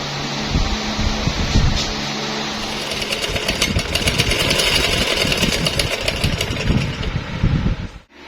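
A sewing machine runs continuously with a busy mechanical whir and rapid rattling stitching, fairly close and steady, fading out at the very end.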